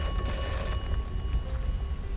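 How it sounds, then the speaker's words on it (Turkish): Telephone ringing in the video game Atomfall, a thin bell-like ring with sustained tones over a low background hum, fairly faint and brief. "Bu sırada bir telefon çalıyor"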